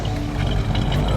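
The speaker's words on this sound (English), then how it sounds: "I just want to get a little exhaust note." A 1958 Chevrolet Impala coupe's engine rumbles through its exhaust at a steady idle, a loud, close, throaty drone with faint voices beneath it.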